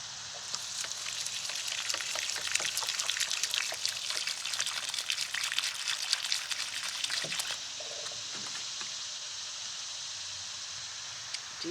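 Water pours steadily onto soil around a tomato plant, a fine, hissing trickle that runs continuously at low level and eases slightly near the end, with no talking.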